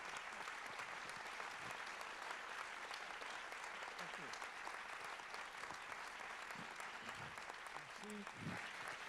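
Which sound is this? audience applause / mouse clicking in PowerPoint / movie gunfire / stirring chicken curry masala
audience applause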